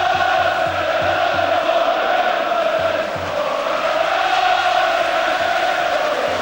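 A stadium football crowd at a Manchester United v Coventry City match in 1994 applauds in a steady, distant wash of clapping and murmur with an undulating roar and no break.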